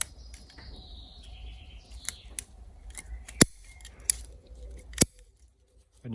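Pruning scissors snip black pine candle buds, giving three sharp, close clicks spaced over a few seconds against quiet background with faint birdsong.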